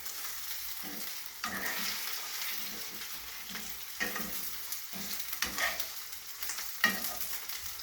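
Steady sizzling of corn cakes frying in a pan, with intermittent scraping and clinks from a utensil stirring or turning them.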